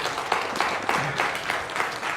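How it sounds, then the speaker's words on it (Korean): A church congregation claps together in a brief, rhythmic burst, the beats evenly spaced and dense like a crowd keeping time, moderately loud in a large room. "우리 교회에서 박수 이렇게 치면 다시 치라 그러는데"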